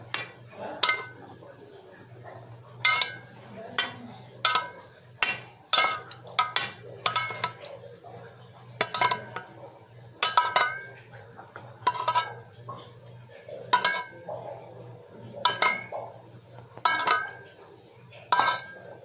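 A metal spoon clinks and scrapes against a baking tray while kunafa is being prepared, giving a steady series of sharp, close taps and scrapes at irregular intervals over a low kitchen hum.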